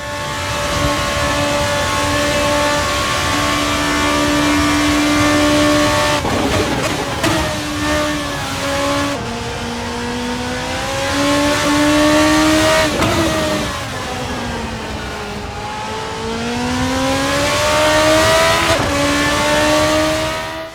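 A race car lapping in the video game Assetto Corsa, its engine loud and close, revving up through the gears in rising sweeps with sharp shifts and brief lifts, some faint tire squeal, no talking.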